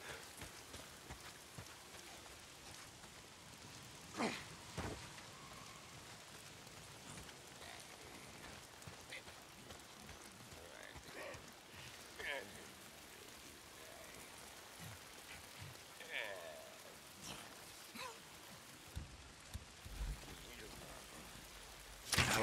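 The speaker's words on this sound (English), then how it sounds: "If it's not the freaks, it's the goddamn rain." Rain falls steadily in the video game Days Gone, a faint continuous patter of drops on surfaces with occasional louder splashes. The rain carries on alone throughout.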